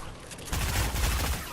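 Mini carbine gunfire in Fortnite Creative on a zombie map, a rapid burst of shots starting after a short quieter lead-in and continuing loud and steady to the end.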